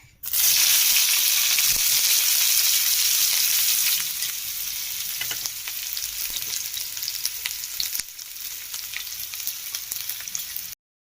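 Onions hitting hot oil in a pan, sizzling loudly and steadily for about eleven seconds, the hiss easing slightly after the first few seconds with occasional crackles and scrapes, no voices.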